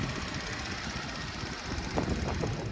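A 2018 Chevrolet Traverse Premier AWD with a 3.6-liter double overhead cam V6 idles steadily, a low continuous engine rumble with a faint ticking texture, slightly rising near the end, with no talking.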